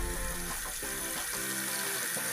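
Steady stream of water running from a tap fitted with a touchless smart faucet adapter into a sink, a continuous splashing rush with a faint tonal hum underneath.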